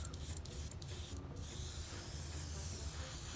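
An Evolution airbrush sprays aluminum metallic paint in a steady, continuous close hiss, broken by a few brief gaps early on before running unbroken to the end.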